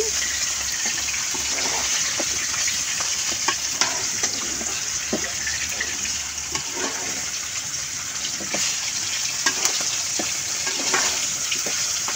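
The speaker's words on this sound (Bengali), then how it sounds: "সব কিছু দিয়ে সুন্দর করে নেড়ে চেড়ে নিচ্ছি।" Mango pickle with spices and salt being stirred, a dense continuous sizzling hiss with faint scraping and mixing clicks throughout, close and steady.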